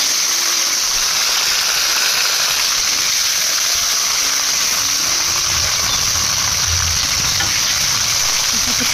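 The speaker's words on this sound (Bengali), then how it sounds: "কড়াইটা একটু তেল দিয়ে এই মাছটাকেও আমি দিয়ে দেবো" Pomfret fish frying in oil in a wok gives a steady, loud sizzle and crackle that runs through the whole stretch with no talking, rising slightly toward the end.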